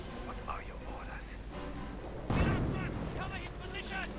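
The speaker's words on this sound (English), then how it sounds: "Mortar round definitely does alright there against the Volksgrenadiers." A mortar round exploding in the Company of Heroes video game, a single booming blast midway that is loud and close and rumbles off, set among ongoing battle noise with a voice talking over it.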